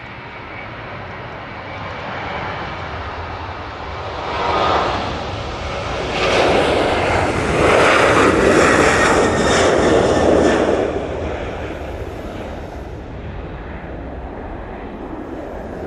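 An airliner takes off from Manchester Airport bound for Palma de Mallorca, its jet engines building into a loud, broad roar that peaks mid-clip before slowly fading, with steady wind-like rumble throughout and no talking.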